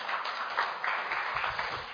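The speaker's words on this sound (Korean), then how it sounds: "큰 박수로 환영해 주시기 바랍니다." An audience claps in welcome for a lawmaker at a Korean economics lecture event, a steady, fairly soft patter of applause across the short stretch.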